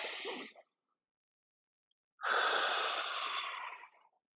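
Heavy, forceful breaths during a hip airplane balance exercise in a yoga-style class: a long exhale trailing off, a pause of silence, then another sustained, loud breath close to the mic, with no talking.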